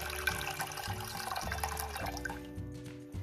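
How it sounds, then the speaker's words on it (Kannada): Water poured into a cooking pot while making Hunza herbal tea: a steady, close pouring splash that runs for about three seconds, with no voices. "2 ಗ್ಲಾಸ್ ಆಗುವಷ್ಟು ನೀರು ಹಾಕ್ಕೊಳ್ಳಿ"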